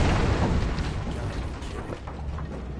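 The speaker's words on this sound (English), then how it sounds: "Look at that explosion." Explosion in the video game Alan Wake, a loud sustained rumbling boom that fills the whole clip and slowly tapers off, with no talk over it.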